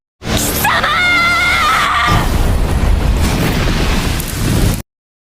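A loud, sustained blast roars for several seconds, opening with a high squealing tone before settling into a dense rumbling crackle that cuts off abruptly.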